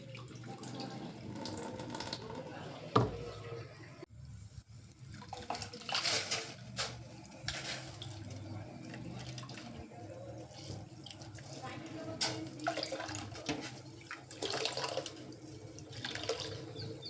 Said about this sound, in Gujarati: હવે દાળ અને ભાત ધોઈ અને ઓરી દેવાના છે